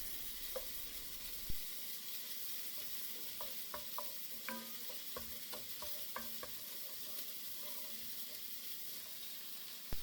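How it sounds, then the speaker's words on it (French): Blended onion and garlic sweating in olive oil in a pan, a faint steady sizzle under soft scattered clicks and stirring taps, with an occasional louder utensil knock, no talking. "J'ajoute un mélange d'oignons et ail mixés. On laisse suer un peu"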